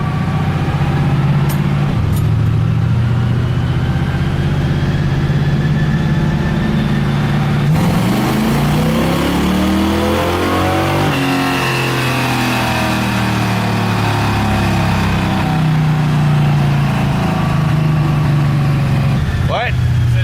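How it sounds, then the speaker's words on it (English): A Chevrolet Cavalier engine, converted to rear-wheel drive and fed nitrous, pulls hard on a dyno, its loud sustained roar sweeping up through the revs, dipping, then climbing again for around twenty seconds. "I'm gonna do a dyno run now with the timing back down a little"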